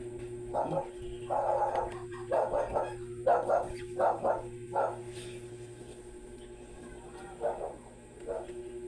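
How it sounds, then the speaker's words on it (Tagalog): A dog barks repeatedly in short bursts at moderate distance, with a few quieter barks after a pause, over a steady background hum. "Nagtao lang aso kasi may dumating na nagtitinda."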